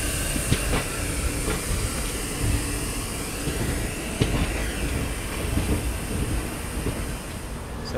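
A Bengaluru–Mysuru passenger train on a diverted route, nearing Banaswadi, rolls along with a steady close rumble and hiss broken by occasional sharp rail clacks, with no speech.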